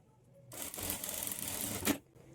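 A sewing machine stitches small dots along blouse fabric for thread piping, a single steady whirring run of about one and a half seconds between quiet moments, close and clear with no talk.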